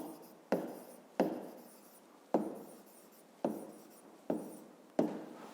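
A pen writes a number by hand on paper in a series of six or seven sharp strokes, each starting with a crisp scratch and trailing off, close and alone without talk.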